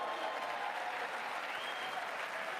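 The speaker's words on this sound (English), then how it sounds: "Applause." Steady applause from an audience at a State of the Union address, continuous and even throughout, with no other sound rising above it.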